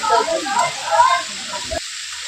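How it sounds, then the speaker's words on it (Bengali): Okra bhaji frying with turmeric in a pan, a steady oily sizzle with scraping stirring strokes, close and fairly loud, cutting off near the end. "ওগুলো হলুদ মলুদ দিয়ে নেড়ে চেড়ে নেবো"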